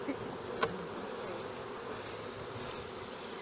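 Honey bees buzz around an open hive during a queen-rearing workshop, a dense continuous drone close by, with one sharp click partway through and no talking.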